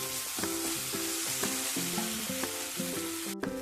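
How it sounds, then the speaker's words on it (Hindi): Masala fries in a pan for egg curry, a steady hiss under a repeating melodic pattern of tones, with a short sharp break near the end. "इसको थोड़ा देर फ्राई करेंगे 1 मिनट तक, ताकि मेरा मसाला जो है वो डाले हम वो मेरा भुन जाए"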